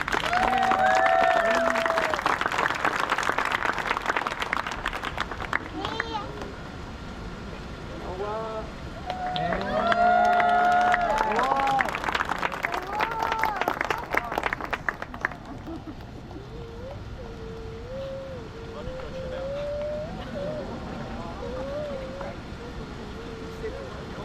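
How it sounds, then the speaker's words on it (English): Crowd applause for a senior player at a Newark senior night rises in bursts, with cheering voices mixed in, then fades to softer clapping under a speaker's voice toward the end. "big round of applause"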